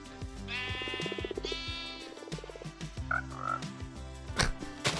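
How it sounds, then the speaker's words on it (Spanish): A Minecraft frog croaks in short game-style calls while hopping around, the croaks loud and close and repeating several times over a steady background of game music. "Esto es una rana."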